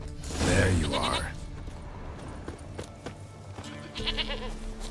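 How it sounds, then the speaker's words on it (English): A goat bleats loudly and close at the start, a wavering nasal cry in the video game Witcher 3, followed by mechanical clicking game sounds and a shorter second bleat near the end. "Here, goat."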